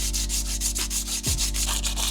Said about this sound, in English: I'm gonna need to sand this old color off as well as this M decal.